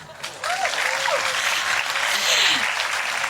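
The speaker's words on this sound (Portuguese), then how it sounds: "Mas queria palmas." Audience applause at a live Paredes de Coura festival stage talk, a dense burst of clapping that swells quickly after a brief start and holds steady and loud throughout.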